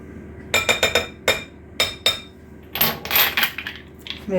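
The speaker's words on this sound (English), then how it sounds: "Remove all my trays because I don't want any mess. That was a bit loud." Metal baking trays pulled out and stacked in a loud, close clatter, a quick series of sharp clanks followed by a longer rattling scrape of metal on metal.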